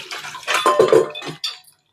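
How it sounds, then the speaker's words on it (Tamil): Tamarind water poured into a pot of elephant yam sambar, a short burst of splashing liquid lasting about a second and a half before falling silent. "புளி கரைசலை ஊற்றிடலாம்"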